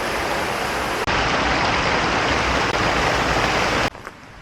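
Stream and small waterfall on a hiking trail in Idaho, a steady, loud rush of flowing water filling the whole clip, with a brief dip near the start and a drop in level near the end.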